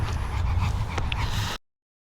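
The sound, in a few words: dog whimpering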